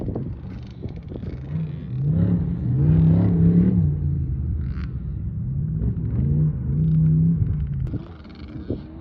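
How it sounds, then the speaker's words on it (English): An off-road race car in the desert drives away, its engine rumbling and revving in rising and falling surges, moderately close and fading between bursts. "So that car's heading off that direction"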